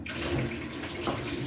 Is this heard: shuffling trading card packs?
no